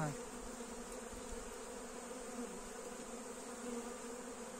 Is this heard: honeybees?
yes